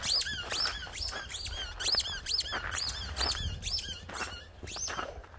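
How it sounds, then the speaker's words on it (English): Squeaky toy balls squeal rapidly and repeatedly as dogs play on icy, snowy ground, sharp rising-and-falling squeaks coming in quick bursts close by, with faint rustling beneath. "Yay! Squeaky balls!"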